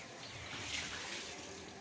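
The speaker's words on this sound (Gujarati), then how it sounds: "ભીખીબેન અમારે પાણી ભરે છે" Water being filled at home, a faint, steady rush of running water lasting under two seconds with no clear break or change.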